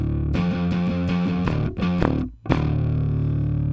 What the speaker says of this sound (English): That distortion pedal just gives it a little bit of grit.